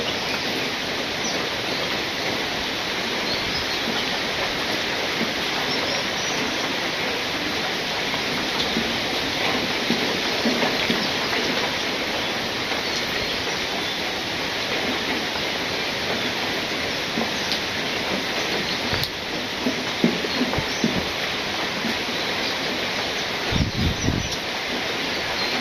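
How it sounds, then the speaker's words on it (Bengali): Steady rain falls in a village, a continuous even wash of broadband patter that holds for the whole stretch with only a few faint knocks near the end, and no one speaks. "বৃষ্টি আবার শুরু হয়েছে।"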